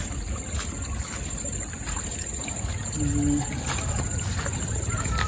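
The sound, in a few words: water flowing in a stream current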